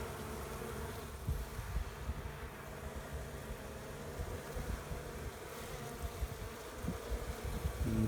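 Bees buzz busily around their hive in a low, continuous drone, with individual insects droning closer and farther across the steady hum.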